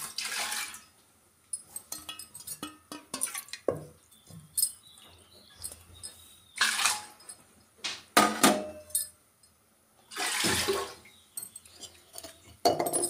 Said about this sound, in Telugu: వాటర్ వేసేస్తాము.